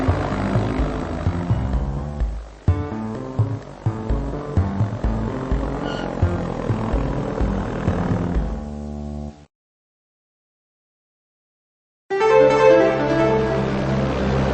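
A simulated propeller airplane engine from Flight Simulator 98 drones loudly and steadily with a buzzing, throbbing tone, drops to silence for a few seconds, then resumes at full strength.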